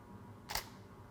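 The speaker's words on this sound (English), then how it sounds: "my camera has just fired" A single crisp camera shutter click during a timelapse setup, one short sharp snap alone in a quiet room.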